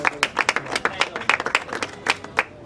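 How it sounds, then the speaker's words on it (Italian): Applause and scattered clapping from a crowd at an outdoor charity football match event in Marigliano, steady irregular hand claps filling the short span at moderate level. "il console del Benin, Giuseppe Gambardella, facciamo un applauso."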